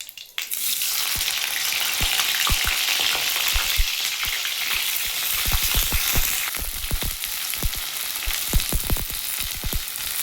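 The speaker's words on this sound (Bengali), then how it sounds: "আমি এবারে ভেন্ডিগুলো একটু হালকা ভেজে নেবো" Okra (bhindi) frying lightly in a pan for a paneer dish, a steady loud sizzle with frequent crackles and pops and occasional stirring clatter throughout, no talking.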